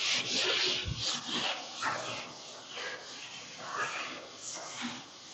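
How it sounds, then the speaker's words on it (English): A board eraser rubs chalk writing off a classroom board in a series of scrubbing strokes, close and fairly loud, with faint background noise of the room. "I'll rub it off."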